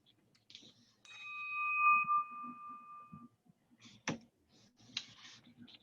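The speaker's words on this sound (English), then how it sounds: "Ring the bell." A single clear bell strike rings out at a Rotary event and decays slowly, followed by scattered clicks and a sharp clack amid quiet background shuffling.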